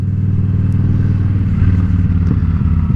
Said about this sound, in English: Roll off the throttle and roll back on halfway through.